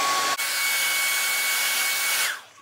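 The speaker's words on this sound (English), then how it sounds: "I got my hair dryer." A hair dryer blowing on a damp, long, curly wig gives a steady loud airflow roar that starts abruptly and then winds down near the end.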